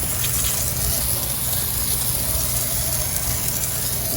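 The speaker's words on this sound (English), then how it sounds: "I'm just going to turn the valve to where it says rinse and rinse it" Steady close hose spray rinsing cleaner off composite decking, a continuous broadband water rush with no pauses and no talk over it.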